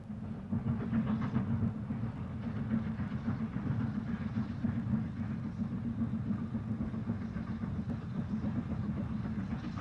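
Steam locomotive hauling a train on the North Yorkshire Moors line at the top of the steep 1-in-49 gradient from Grosmont to Goathland, a steady low rumble of the engine and carriages rolling past, moderately distant and continuous.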